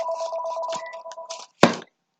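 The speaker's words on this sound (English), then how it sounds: "here's the phones ringing" A telephone rings with a steady electronic tone in repeated pulses, fairly close and clear, then stops and is followed by a brief sharp clatter.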